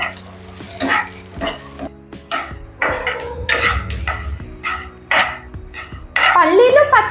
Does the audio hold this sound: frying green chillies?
yes